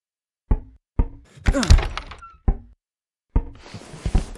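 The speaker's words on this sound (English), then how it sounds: "Stupid door." A door opens in a video game: a series of sharp knocks and thuds, then a creaking, scraping push and a rattling clatter, loud and close with brief silent gaps between the hits.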